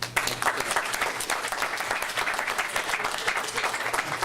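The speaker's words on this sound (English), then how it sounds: "can we all give them a round of applause, please?" Audience applause for participants at a public meeting, a steady dense round of clapping from many hands filling the room, sustained at even loudness throughout with no talk over it.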